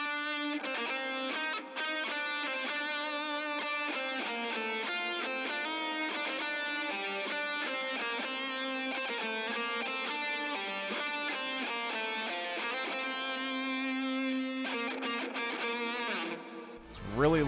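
Distorted electric guitar played through a Tube Screamer and a noise gate rings out in a continuous, dense lead line with sustained notes, close and steady, cutting off abruptly at the end.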